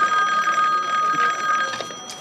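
A telephone rings loudly and steadily in a police station office, a continuous electronic trill that fades slightly toward the end with no talk over it.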